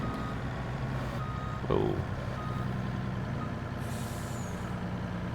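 Reversing beeps from a truck in Farming Simulator 22, steady evenly spaced beeps over a continuous engine drone, with a brief air-brake hiss and a short spoken exclamation.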